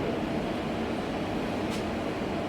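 A train from Lviv passes at the station in Przemyśl, a continuous broad rumbling roar that holds steady at moderate volume for the whole stretch.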